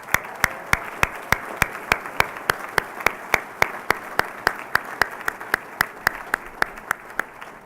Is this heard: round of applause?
yes